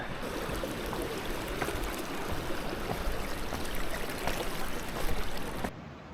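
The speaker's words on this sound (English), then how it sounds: "Some nice camp spots along the creek here." Steady rushing of Havasupai creek water flowing over rocks by a campground, a continuous close wash of sound with no voices, ending abruptly.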